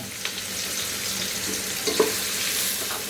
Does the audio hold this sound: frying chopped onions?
yes